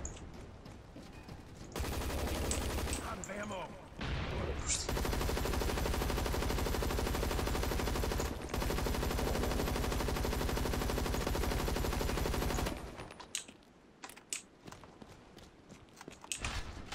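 Sustained rapid gunfire from the zombie shooter game Zombies Monsters Robots, dense automatic bursts running loud and unbroken for several seconds, then cutting off into scattered quieter game sounds.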